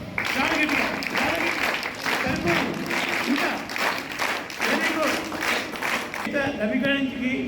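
Audience clapping for Ravi's birthday, a fairly close crowd applauding in uneven bursts, with voices talking and calling over the clapping throughout.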